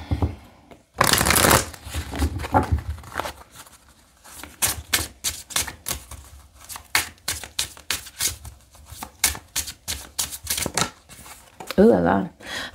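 Tarot cards being shuffled by hand for a career reading, a long riffling burst followed by many rapid, rhythmic close-up card flicks in quick succession, with a person talking intermittently.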